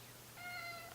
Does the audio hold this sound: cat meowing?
yes